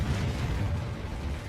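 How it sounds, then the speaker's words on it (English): A supervolcanic eruption explodes as a deep, sustained rumbling roar, loud and dense throughout, with no voices. "leading to an explosion"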